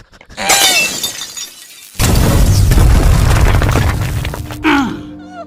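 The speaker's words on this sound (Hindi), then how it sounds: "फ्यूज उड़ा दिया" Cartoon explosion effect of a fuse blowing: a loud, sudden broadband crash like shattering and booming that runs for about three seconds, with lighter cartoon sounds and swooping effects before and after it.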